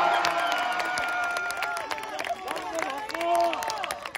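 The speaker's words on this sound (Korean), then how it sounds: "박수!" A crowd cheers and applauds for a university cheerleading squad performing at a school celebration, with busy clapping and shouting at moderate distance and voices mixed in throughout.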